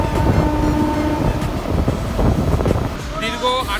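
Howrah–Haldia fast local train speeding through Kolaghat station without stopping, a loud rolling rumble with rhythmic wheel clatter and wind rush, heard from aboard, with a brief higher tonal sound near the end.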